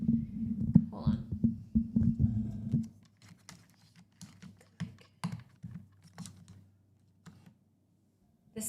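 Fingers tap a clicky mechanical keyboard in sparse, uneven keystrokes, close and fairly quiet, after a few seconds of low murmured talk at the start.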